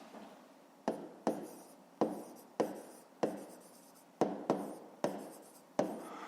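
A pen writes out a fifth-grade math solution, steady scratching strokes in about eight quick bursts, each starting sharply and trailing off, close and clear with no voices.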